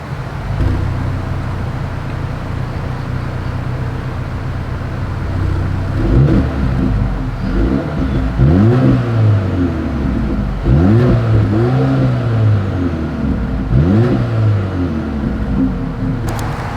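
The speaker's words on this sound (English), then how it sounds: "As always, here is that exhaust clip" A 2025 Mercedes-Benz GLA 250 with dual exhaust outlets idles and then revs several times, each blip climbing and falling back in a series of loud, close throttle bursts with no talk.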